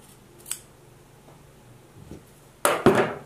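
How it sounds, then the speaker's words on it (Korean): Fabric scissors snip a sewn V-neckline seam allowance close to the stitching. A single light click comes early, then after a pause two sharp, close cuts land near the end, with no talking. "가위밥을 주셔야 됩니다."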